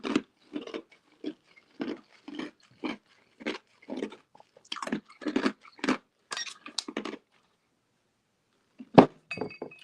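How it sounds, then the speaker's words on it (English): A person chewing ice cubes, producing a series of crunchy bites and clinks at a steady rhythm, close and fairly loud, pausing briefly before a final crunch near the end. "Pardon me for chewing the ice"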